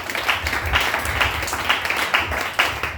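A church congregation claps in praise of the Lord, a steady crowd applause with repeated bursts of hand claps lasting throughout, fairly loud and close.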